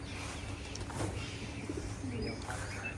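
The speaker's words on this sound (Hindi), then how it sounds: "ये देखो ये कबूतर माशाल्लाह" Pigeons kept in a backyard pen alongside goats coo softly and faintly. Their calls repeat against a steady background hiss.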